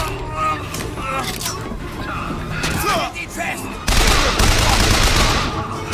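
Gunfire at enemies in the shooter game Bioshock Infinite, rapid shots and bursts that swell louder toward the end, mixed under excited German talk from players.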